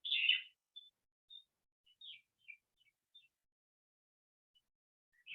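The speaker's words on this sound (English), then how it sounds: "So you can hear birds." Birds chirp in a quiet mosquito habitat, giving short, high, sparse calls spaced irregularly across the stretch, with one slightly louder burst at the start and near-silence between notes.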